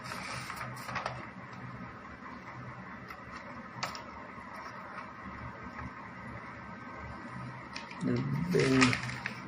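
An Epson Stylus TX111 inkjet printer under service whirs and clicks faintly as its roller draws paper in, with a louder mechanical burst near the end, while someone talks over it.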